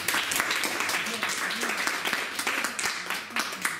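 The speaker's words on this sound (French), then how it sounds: "On peut applaudir sur ce" An audience applauds at a lecture on the Jews of China, with dense, steady clapping filling the room for a few seconds, fairly loud and without a break.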